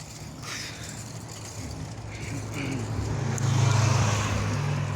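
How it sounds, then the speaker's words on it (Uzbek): A car approaches from behind on a road at night, its engine rumble and tyre noise swelling steadily louder over several seconds, close by and without talk. "Orqadan mashina kelyapti."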